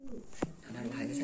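A pigeon at a pigeon sale coos softly in a short, low, throaty call, faint and close, with a brief sharp click partway through.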